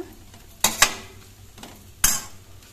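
A spoon scrapes and clinks against a pan while flattened rice avalakki usuli is mixed with fresh coriander, giving three sharp metallic knocks, two close together and one a moment later, over quiet kitchen background.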